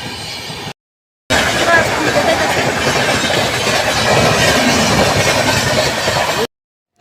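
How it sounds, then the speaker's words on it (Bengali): Two trains pass close by at a railway level crossing with a loud, sustained rumble and clatter of wheels on track, after a brief quieter stretch and a short gap at the start. "আর কিছুক্ষণের মধ্যে দুটো ট্রেন গেছে।"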